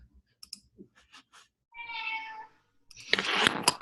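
A pet cat lets out one clear, drawn-out meow close by, set between scattered keyboard or mouse clicks, followed by a louder burst of rustling and clicking.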